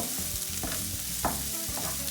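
Red capsicum and carrots frying in olive oil, giving a brief, steady sizzle with a couple of soft stirring scrapes and no speech.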